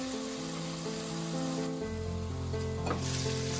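Tandoori chicken pieces searing in a pan over high flame, a continuous dense sizzle with a low hum underneath, steady and close.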